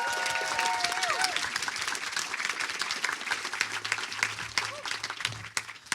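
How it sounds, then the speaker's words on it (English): Sustained audience applause fills a hall at the Earthmovers 2018 event, dense steady clapping from a crowd, with a few voices and cheers rising briefly through it before it starts to thin near the end. "Let's get a round of applause for that."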